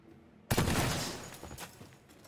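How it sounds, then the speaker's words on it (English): A sudden loud shotgun blast in a video game bursts out after a quiet moment, followed by a decaying rumble and a few softer crunching impacts. "Or in our case, shoot it with a shotgun."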